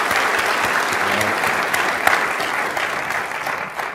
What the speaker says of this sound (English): I actually want to just have a round of applause.